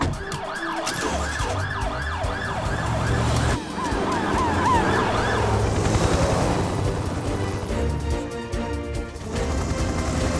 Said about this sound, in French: Hélène, suis-la avec l'ambulance des secours en montagne